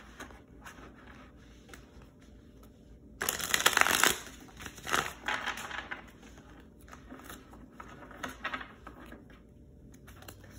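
Tarot cards being shuffled in several loud riffling bursts, with softer card handling before and after, close up with no talking.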